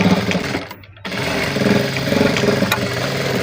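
An electric sewing machine runs steadily as it stitches scrap fabric for tailoring, a continuous close motorized whirr with one brief pause near the start before the stitching resumes.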